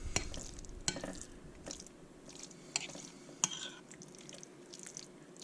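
Moose meatloaf mixture with rolled oats and canned tomato sauce being blended by hand in a bowl, giving soft wet squelching and stirring sounds with a few sharper clicks, close and fairly quiet.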